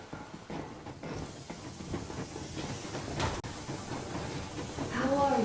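Steam train rolling along in the video game Metro Exodus, a steady rumbling hiss with faint rhythmic clatter and a sharp hissing burst midway, while voices and music sit over it.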